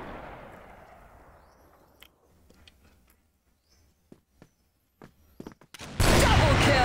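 Sparse sharp shots from a Barrett Royal Dragon sniper rifle in CrossFire crack out one by one over a quiet stretch, ending in a loud sustained burst, with a voice talking at times.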